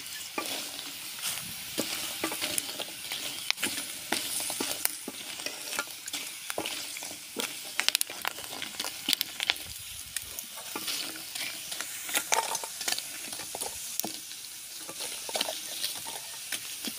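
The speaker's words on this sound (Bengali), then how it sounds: "এভাবে গরম তেলে ভাজবেন, ভেজে টাটকা টাটকা চিপস খাবেন।" Potato chips fry in hot oil with a dense, steady crackling sizzle and occasional stirring scrapes, continuous throughout.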